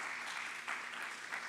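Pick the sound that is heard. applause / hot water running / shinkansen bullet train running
applause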